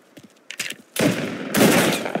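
Two heavy shotgun blasts boom in the PC game Mafia Definitive Edition, each a loud, sharp burst with a long decaying tail, preceded by a few faint clicks and scuffles.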